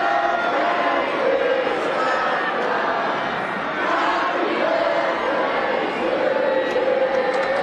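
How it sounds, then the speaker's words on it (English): A large football stadium crowd roars and cheers around the moment of a goal scored for a national team. It swells and dips beneath a loud commentator talking over it. "And there goes the crowd."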